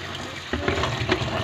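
Water poured during home cooking, a soft steady splashing and trickling stream that starts halfway through and runs on, fairly close and moderately quiet.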